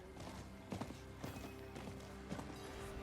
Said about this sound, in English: we ride our horses in here